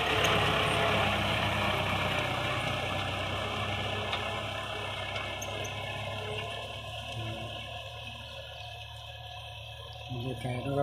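Kubota L5018 tractor engine working hard while plowing a dry rice field, a loud, steady diesel drone with low rumble that eases slightly midway, with speech audible in places.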